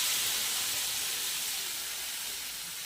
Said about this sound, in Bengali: এবার মশলাগুলোকে ভালো করে নেড়ে চেড়ে তেল ছাড়া অবধি মশলাগুলোকে ভাজবো